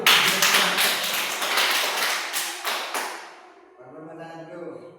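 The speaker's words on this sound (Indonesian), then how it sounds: "Tepuk tangan dulu." A classroom of students claps hands together in a brisk, lively burst for about three seconds, then the clapping dies away and quiet talking follows.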